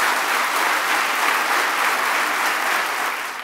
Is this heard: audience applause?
yes